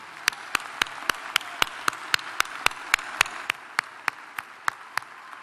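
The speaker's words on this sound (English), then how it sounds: "Please join me in a round of applause for their service to our great country." Sparse, evenly spaced single claps ring out one by one at a university commencement ceremony, about a dozen sharp hand claps from one or a few people in a large quiet hall.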